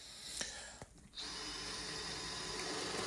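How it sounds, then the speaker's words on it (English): A power drill whirs steadily while countersinking a couple of screws into scrap wood, preceded by a few brief clicks and knocks, then a continuous close motor drone for the rest. "Just countersinking a couple of screws into there."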